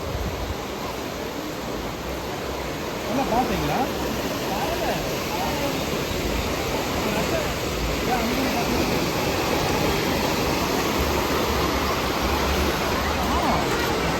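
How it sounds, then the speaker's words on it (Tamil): Steady loud rush of flowing water at Kodiveri dam, a continuous broad roar like a torrent pouring over a weir, with a faint voice now and then. "தண்ணி வந்து நல்லா போயிட்டு இருக்கு தண்ணி பாருங்க"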